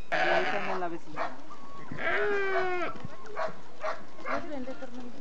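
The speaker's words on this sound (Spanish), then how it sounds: "¿Cachivos o ovejas? Sí, son borregos" Pelibuey sheep on a farm give wavering bleats, the clearest one loud and close in the middle, with other animal calls and background voices around them.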